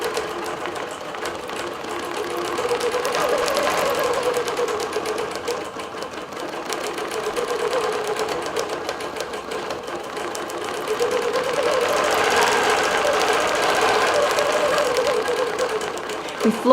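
A longarm digital quilting machine stitches a quilt with blue thread, making a steady, fast mechanical whirr that continues without a break and swells louder toward the end, with speech faintly underneath.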